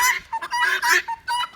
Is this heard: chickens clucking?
yes